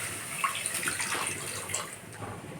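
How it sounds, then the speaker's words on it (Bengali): Milk pours into a pot already holding oil while making payesh, a Bengali rice pudding, giving a steady liquid splashing and trickling that stays fairly even for a few seconds with no talk over it. "তেলটা ঢেলে নিয়েছি, এর মধ্যে দিয়ে দেবো আমি দুধ।"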